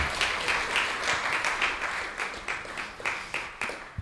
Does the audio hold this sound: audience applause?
yes